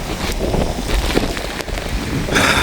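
Steady rain pours across farmland planted with cassava near Nallur during flooding, a dense, even hiss of drops striking leaves and ground close by, with a faint low rumble underneath and the downpour swelling toward the end.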